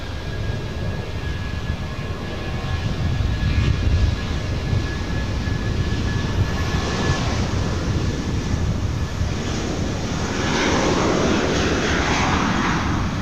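JetBlue airliner jet engines roaring at LAX as the plane departs, a loud, steady broadband rumble with wind buffeting that swells into a brighter, hissing roar toward the end.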